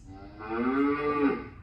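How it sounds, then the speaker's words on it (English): A single long cow moo rises and falls over about a second, heard clearly on its own with no talking. "That's a cow."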